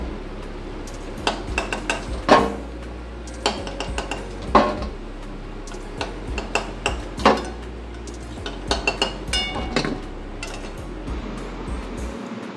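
Fried jute leaf pakoras are lifted one by one from a pan, with a series of close metallic clinks and scrapes of a utensil against the pan, spaced irregularly over a soft background.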